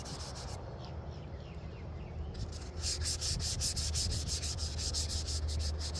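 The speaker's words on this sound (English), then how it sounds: "This sandpaper right here don't seem that bad. It's definitely working. It's sanding." Sandpaper rubs against an Estes Star Orbiter model rocket in steady, repeated close strokes, getting louder and more rhythmic in the second half, with no talking.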